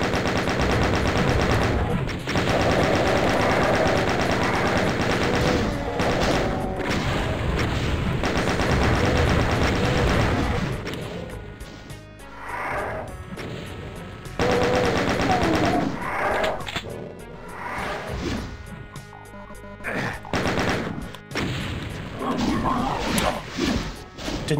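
Rapid chain gun bursts and heavy point-blank shotgun blasts in the shooter game RAMP, loud and close, with repeated volleys and crashes across the stretch and brief quieter gaps between exchanges.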